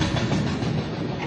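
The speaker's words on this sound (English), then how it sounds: "this superpowered loco links up with the Carajás train to give it an extra boost" A Carajás iron ore train with a dynamic helper locomotive rumbles past at speed, loud and steady, with a dense roar of wheels and rail clatter throughout.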